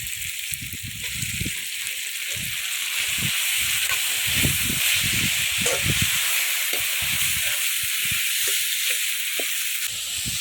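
A steady sizzle and hiss of dried fish frying in a hot pan, with soft stirring scrapes and thumps, close by.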